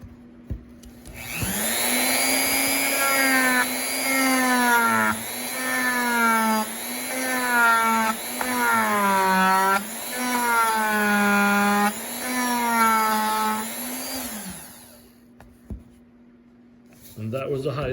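A Dremel rotary tool fitted with a grinding wheel whines steadily at its highest speed, its high pitch rising and dipping in repeated passes over roughly twelve seconds before cutting off.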